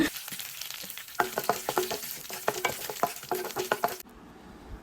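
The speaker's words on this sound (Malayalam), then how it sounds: "ഇതിലേക്ക് ഒരു 2 കറിവേപ്പിലയും കൂടെ ചേർത്ത് കൊടുത്തിട്ട് ഒരു ലൈറ്റ് ബ്രൗൺ കളറിൽ ഒന്ന് മൂപ്പിച്ചെടുക്കാം" Coconut pieces and curry leaves fry in oil with mustard seeds, producing a close sizzle with crisp crackles and stirring clatters, before the sound cuts off abruptly near the end.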